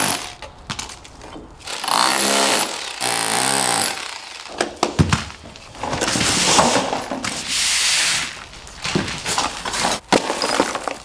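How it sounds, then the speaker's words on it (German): Rotary hammer fitted with a chisel breaking out floor profile during a patio door replacement, loud harsh bursts of hammering that start and stop repeatedly with short pauses, close by and alone. "Und einem Bohrhammer mit Meißel."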